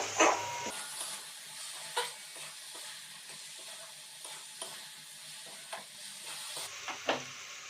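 Dry-roasted, ground cumin, coriander and fennel being stirred into biliti amra (apple) chutney in a pan: a soft, continuous sizzle broken by sharp, irregular utensil scrapes and clicks at close range.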